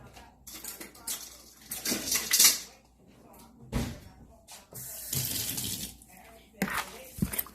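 Oxtails being mixed by hand with seasoning including thyme, producing wet squelching and clattering bursts against a bowl, close and intermittent, with brief quiet gaps between strokes.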